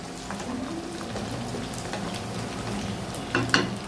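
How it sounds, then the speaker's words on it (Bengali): Whole garlic cloves fry in mustard oil for a mango, chilli and garlic pickle, giving a steady, close crackling sizzle throughout with slight bubbling near the end. "এখানে হচ্ছে আস্ত রসুনগুলা প্রথমে দিয়ে দিলাম।"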